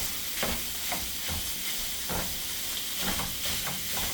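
Peppers sizzling in a hot pan while being made into stuffed peppers, a steady bright frying hiss with soft rhythmic stirring scrapes every half second or so, close and continuous.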